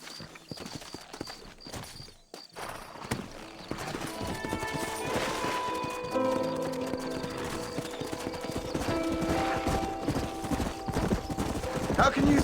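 Horse hooves clip-clop at a steady trot with an occasional whinny in the Western video game Red Dead Redemption, heard under faint game music and ambience while characters speak.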